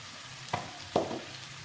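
Spices fry for chana dal with a soft, low sizzle, interrupted by two brief scraping stirs of a spoon; close and quiet, no voices.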